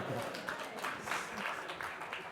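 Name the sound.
audience applause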